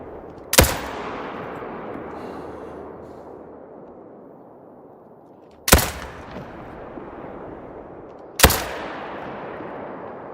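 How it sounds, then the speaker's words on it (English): Three loud rifle shots at a whitetail deer in theHunter: Call of the Wild on Mississippi Acres, each a sharp crack with a long rolling echo fading over several seconds, spaced irregularly. "We will shoot him first in case he is a diamond."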